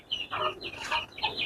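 Newly hatched fighting-chicken chicks peep in high, thin chirps beside their mother hen, a close flurry of overlapping calls with no speech.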